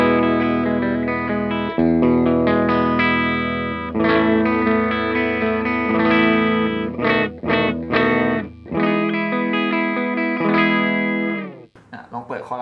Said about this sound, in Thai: ก็กีตาร์ประมาณนี้ครับเสียงคลีน